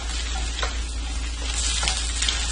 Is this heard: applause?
no